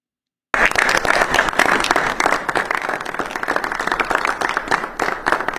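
A dense burst of audience clapping starts abruptly after a brief silence and continues steadily at close, loud level to the end.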